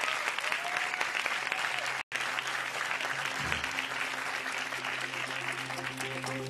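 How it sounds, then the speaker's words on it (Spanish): Sustained applause from a studio audience on a televised quiz show, broad and even, with a brief cut in the middle and a faint tone underneath. "¡Aplauso de todas maneras, gran Rosco!"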